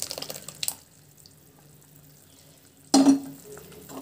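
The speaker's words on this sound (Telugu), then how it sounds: "మనం ముందుగా ఎనిపి పెట్టుకున్న పప్పు ఇందులో వేసుకుంటున్నామండి." Cooked lentils tipped into a pot of boiling sambar masala for hotel-style idly sambar, landing with a sudden wet splash and stirring slosh after quiet bubbling.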